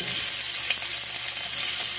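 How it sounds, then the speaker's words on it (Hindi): Chopped onion frying in hot oil, a steady close hiss and sizzle that runs unbroken throughout. "तो प्याज फ्राई हो रहा है"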